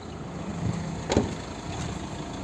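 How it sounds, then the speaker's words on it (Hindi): Engine of a 2022 Mahindra Scorpio Classic S11 idles steadily with the air conditioning running, a low, even hum heard close up, with one brief louder knock partway through. "इंजन आपका जो है वो अभी स्टार्ट है विद AC ऑन।"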